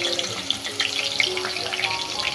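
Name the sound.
garlic frying in oil with onion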